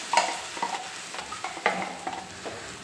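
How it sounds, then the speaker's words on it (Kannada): Ground masala is stirred into bitter gourd and chickpeas frying in a pan, giving scraping stirs in uneven bursts over a soft, steady sizzle, close by and with no talking. "ಇದಕ್ಕೆ ರುಬ್ಬಿರೋ ಮಸಾಲ ಹಾಕೋಣ."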